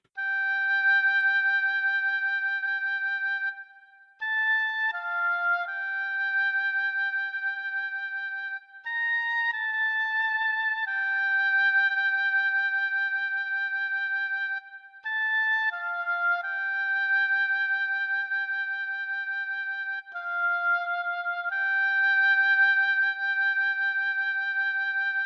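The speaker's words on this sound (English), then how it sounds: "and then I'm going to go settle for an oboe sound" Oboe preset from the RolandCloud SRX Orchestra software instrument playing the Tomb Raider melody, a solo reedy line of sustained notes with brief breaks between phrases, clean and moderately quiet with nothing else present.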